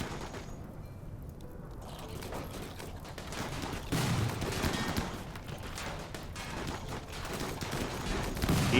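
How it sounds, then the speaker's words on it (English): Sustained video-game gunfire, a dense crackle of repeated shots and mechanical clatter at moderate level, with a short voice heard briefly. "Keep firing."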